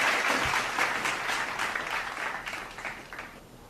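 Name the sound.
applause for giveaway winner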